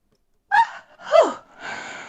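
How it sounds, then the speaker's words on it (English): A person yawns up close in a quiet room, with two drawn-out voiced breaths that rise and fall, followed by a softer exhale. "Yeah, I was just yawning."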